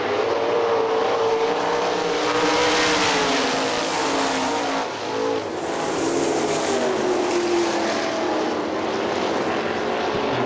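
Sprint cars roaring around the dirt oval at Hartford Speedway Park, a loud sustained engine drone whose pitch slides and swells as the cars pass, with no voices.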